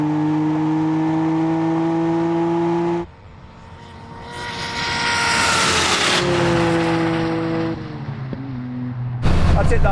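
Drag racing cars launching off the line, an engine's steady tone cutting out before another car roars past with a rising then falling pitch, loud and close, with a voice briefly over the noise.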